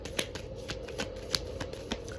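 Tarot cards being riffled and shuffled nearby, a series of crisp papery flutters and snaps at an uneven rhythm, with no talking.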